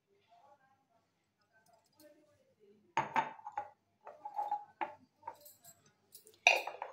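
A spoon stirs fruit salad with sugar and honey in a bowl, giving light clinks and scrapes against the dish. The sounds come in quiet, irregular bursts after a near-silent start.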